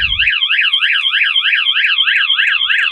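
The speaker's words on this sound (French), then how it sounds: "vous allez avoir une alarme du coup qui va sonner pendant 30 secondes." Anti-theft alarm on a parked van wailing loud and close in a steady, rapidly warbling two-tone sweep, repeating without pause; a brief low thump sounds at the very start.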